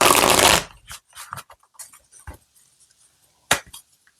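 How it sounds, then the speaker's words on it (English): Tarot cards being shuffled, a dense riffling burst at the start, then scattered taps and soft slaps as the deck is squared, close and fairly loud. "one more shuffle here."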